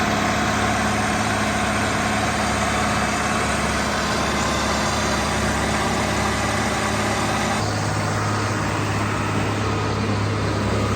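A John Deere 7810 tractor labouring on a PTO dynamometer, its diesel engine a loud, steady heavy drone that shifts to a deeper, firmer pitch partway through as load changes.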